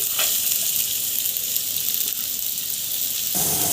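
Chopped carrot goes into a hot pan for a chicken soup, setting off a loud, steady hiss of sizzling oil that fills the whole stretch close up, with a slight shift in tone near the end.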